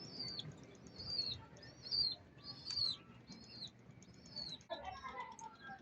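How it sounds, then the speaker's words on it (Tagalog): Pigeons calling in short, repeated cooing phrases outdoors, with a soft wing flutter near the end and a low background rumble. "Ayan, oh, mga kalapati, oh."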